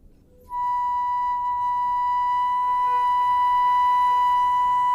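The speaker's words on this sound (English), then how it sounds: "this is a sound of a flute, note B4" A single sustained flute note at B4 begins after about half a second and holds steady and clear to the end, with a bright pure tone and faint breathy noise beneath it.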